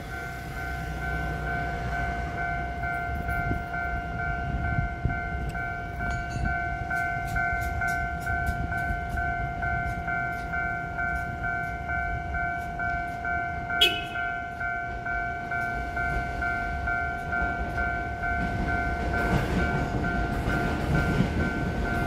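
A Puyuma TEMU2000 express tilting train, set TEMU2037+TEMU2038, passes on a Taiwanese rail line and holds a long, steady horn over continuous rumbling wheel and track noise, with a brief sharp clack partway through.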